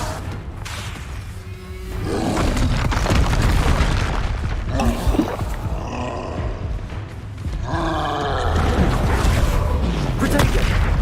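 Bombarda and Confringo spells detonating in Hogwarts Legacy produce repeated loud booming blasts and roaring bursts in a video game, with a player's voice calling out between the explosions.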